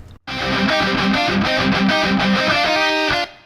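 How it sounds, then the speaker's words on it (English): Heavy metal guitars with heavy distortion play a dense, loud riff an octave down, a thick sustained wall of sound with rhythmic chugging that stops abruptly at the end. "they're playing the same with the same type of distortion and EQ"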